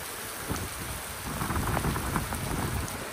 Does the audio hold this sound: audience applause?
no